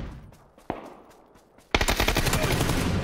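Gunfire in PUBG on the Sanhok map: a lone sharp shot, then after a short pause a loud, rapid automatic burst that rattles on continuously to the end, with faint voices briefly audible beneath.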